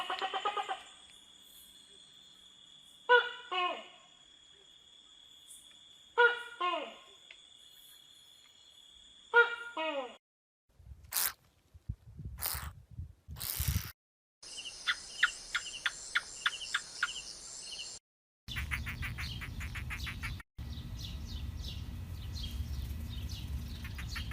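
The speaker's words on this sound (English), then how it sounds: "sort of supercut in some calls of geckos, because it sounds much more like a bird chirping" Geckos call in several short bursts of rapid chirping clicks, bird-like, repeated at intervals over quiet background, followed by other buzzy, insect-like trilling and noisy stretches.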